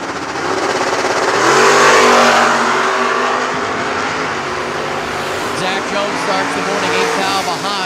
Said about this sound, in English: It's going to be Kevin Benton, the Chevelle wagon here on the left-hand side. 649 the dial takes on Zach Jones's first-gen Camaro.